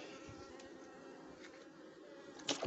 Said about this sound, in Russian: Блин, пчелки назалетали у меня в сироп.